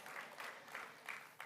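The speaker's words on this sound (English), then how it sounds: "give her a round of applause for being a sponsor" Quiet scattered applause from a summit audience in a conference room, a few soft bursts of clapping rising and falling under a thin room hiss.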